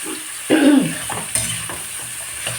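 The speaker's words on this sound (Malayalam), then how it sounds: "ഇഞ്ചി പച്ചമുളക് സവോള എന്നിവ ചേർത്ത് നമുക്കൊന്ന് വഴറ്റിയെടുക്കാം" Ginger, green chilli and onion sautéing in a pan for a chicken and ash gourd coconut milk curry: a sudden burst of sizzle as they hit the oil, then a few spatula scrapes against the pan.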